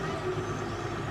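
Heavy machinery and a stuck cement mixer truck rumble steadily at mid distance as the equipment pulls the stranded truck loaded with wet cement, with a low engine drone throughout and a faint voice underneath.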